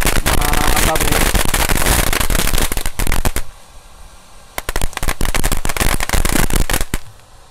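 A single lit mercon firecracker goes off in a dense, loud string of rapid sharp cracks, pauses briefly, then bursts into another fast crackling run before stopping.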